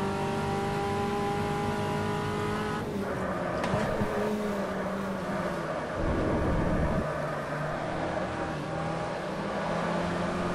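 Race car engine in the Automobilista racing game, a Volkswagen Gol square-body in Curitiba, droning steadily as the car accelerates through gear changes, with brief shifts in pitch and a short rougher burst partway through.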